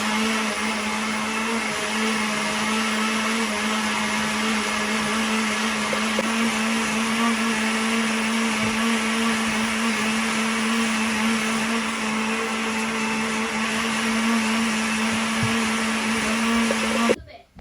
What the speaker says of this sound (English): I will shift my focus to the blender, and I will start by blending the ingredients